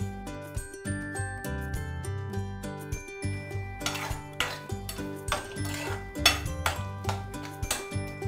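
Metal spoon stirring and scraping chopped chikoo pieces with sugar in a pan, a series of clinks and scrapes in an irregular rhythm, close by, over soft background music.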